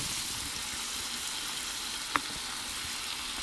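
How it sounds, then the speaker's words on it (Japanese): A hamburger patty frying in a Storm Cooker pan over an alcohol burner gives a steady, even sizzle throughout, with one brief sharp pop near the end and no talking. "アルコールバーナーで、ストームクッカーの L のフライパンでね、焼きたいと思います"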